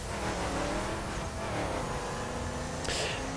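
A monster truck in the racing game The Crew Wild Run rumbles off-road with a steady, loud engine drone and shifting pitch, running continuously without talk.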